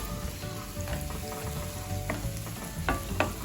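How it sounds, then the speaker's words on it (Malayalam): Chopped onions sauté in a pan for Mumbai street-style pav bhaji, a steady close sizzle broken by several sharp scraping clinks of a spoon stirring against the metal. "നല്ലവണ്ണം വാടി കിട്ടുന്നവരെ ഒന്ന് വഴറ്റിയെടുക്കാം"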